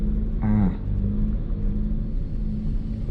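A car's engine rumbles low and steady as it creeps up a steep slope in first gear at a Khao Kho campsite in Thailand; a brief higher whine rises early, with no talk.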